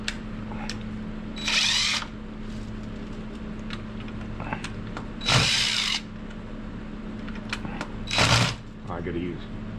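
Three loud bursts of a power drill with an extension whirring, each about a second long, spaced apart over a steady background hum.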